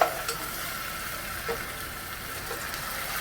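A pan of Korean-style loco moco being stirred, sizzling steadily with a soft, even hiss and faint scraping strokes, close and continuous with no talking.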